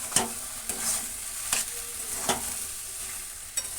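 Shrimp, potato and ridge gourd cooking with mustard in a kadai with little oil: a steady soft sizzle broken by five or six sharp scraping stirs at irregular intervals, with no talking.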